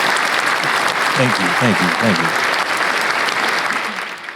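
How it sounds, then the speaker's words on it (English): Sustained audience applause fills the room at steady loudness, with a voice briefly speaking over it partway through before the clapping tapers slightly at the end. "let's also give Eric a round of applause"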